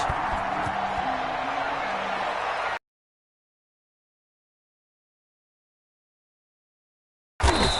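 Crowd noise at a Washington versus Miami Dolphins NFL game in South Florida during introductions, a dense roar for about three seconds, then silence, then loud crowd sound returning at the end.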